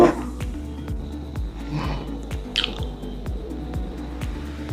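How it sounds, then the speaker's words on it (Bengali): Roasted eggplant is mashed by hand with green chili, garlic and raw mustard oil, making soft, wet squishing and squelching sounds close up over a steady low background hum. "কাঁচা লঙ্কা কাঁচা তেল দিয়ে বেগুন পোড়াটাকে আমি মাখবো"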